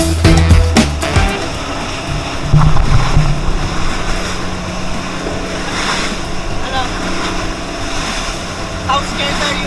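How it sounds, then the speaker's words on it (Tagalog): Strong sea waves battering a small boat on a trip to Apo Reef: loud, continuous rushing water and wind buffeting the microphone, with an engine droning beneath and voices talking at times. "Hindi ko alam kung marinig pero sobrang lakas ng alon"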